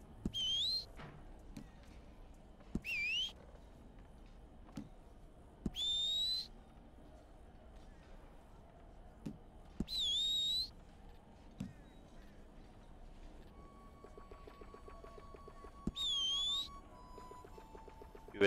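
Red Dead Redemption 2 online: a character gives about five short, sharp rising whistles at spaced intervals over a quiet game soundscape with faint hoof-like clops and soft tones.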